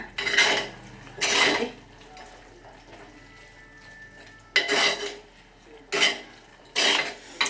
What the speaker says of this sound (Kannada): ಈಗ ಮಿಕ್ಸ್ ಮಾಡಿ ಒಂದೆರಡು ಕುದಿ ಬರಲಿ, ಚೆನ್ನಾಗಿ ಮಿಕ್ಸ್ ಮಾಡೋಣ